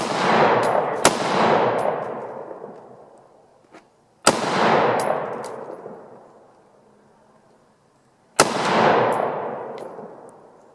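Three loud firearm gunshots ring out outdoors, each a sharp crack followed by a long rolling echo that fades over several seconds, spaced roughly four seconds apart with no talking between them.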